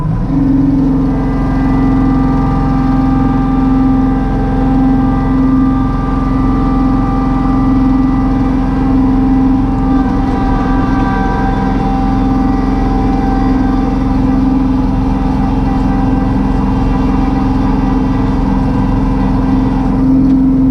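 A stuck Toyota truck's engine drones steadily and loudly throughout while being pulled free in snow, a constant mid-pitched hum with slight surges and no pauses.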